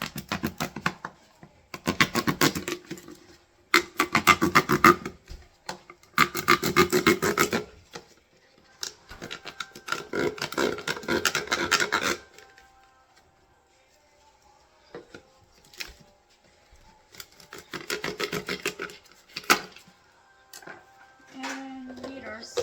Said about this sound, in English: we have to cut the bottom of this off